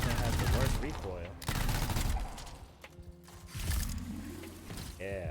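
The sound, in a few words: rapid gunfire from a fast-firing gun in a video game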